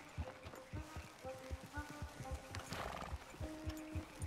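Horses ridden in Red Dead Redemption 2 clip-clop in a steady gait, with a horse neighing and snorting close by over faint rain, and a soft voice briefly underneath.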